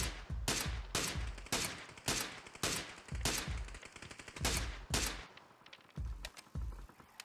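Gunshots fired at targets in the video game PUBG ring out in a rapid, steady series of loud, close cracks, then a short pause before several more spaced shots.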